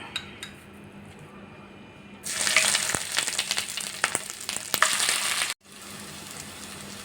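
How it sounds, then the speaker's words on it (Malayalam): Chopped ginger drops into hot oil in a pan and breaks into a loud, bright sizzle, with scattered utensil clinks and a brief cut near the end. No one speaks. "ഇഞ്ചി ഒന്ന് ഫ്രൈ ആക്കി എടുക്കണം"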